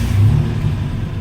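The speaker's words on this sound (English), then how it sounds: "This car has always started that well since I put it back together." A 1987 Buick Grand National with a fresh battery and old gas rumbles and revs briefly, a low, steady engine growl with a short swell near the start, close and unaccompanied by talk.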